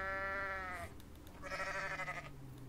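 A goat in Goat Simulator lets out two drawn-out, nasal bleats, loud and close, with a short pause between them and no talking over them.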